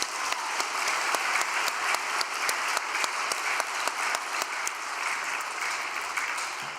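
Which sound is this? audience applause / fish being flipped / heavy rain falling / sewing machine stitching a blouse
audience applause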